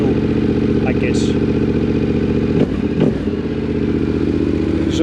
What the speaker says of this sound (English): Exhaust sounds fairly alright.